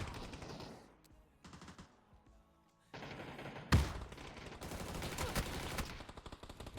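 Machine gun fire in a video game rattles in sustained bursts after a heavy impact, loud and dense against shifting game sounds.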